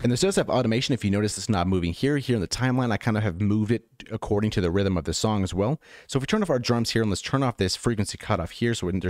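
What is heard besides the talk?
None of the usual background noises is heard.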